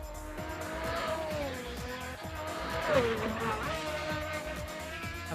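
A Pagani Zonda lapping a track in Assetto Corsa, its engine loud and close as the revs rise and fall with shifts and corners, with brief tyre squeal mixed in.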